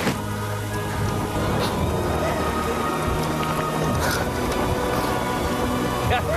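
Film sound effect of rain falling at night, a dense, steady hiss of drops that stays loud and unbroken throughout, with faint distant rumbles mixed in and no clear speech over it.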